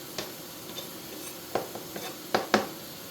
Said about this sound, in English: we're just going to give this a stir and let this hang out for a little bit